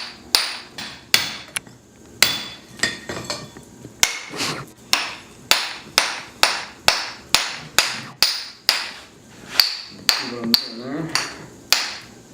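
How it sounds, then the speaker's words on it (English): A hammer strikes the back side of a forged hatchet on an anvil in a steady rhythm, about twenty close, sharp metallic blows with brief ringing decays. "I'm going to hammer the back side of it"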